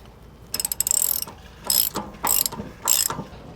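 Four bursts of a hand ratchet clicking while an RV water heater anode rod is tightened, the first a rapid run of clicks and the next three shorter, close and fairly loud with brief pauses between.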